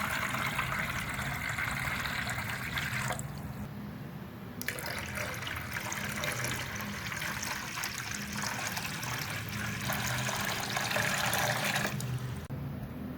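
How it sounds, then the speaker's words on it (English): Water poured steadily into a container to make rangoli on water for Diwali, a continuous close splashing trickle that shifts in tone a few times. "Add water."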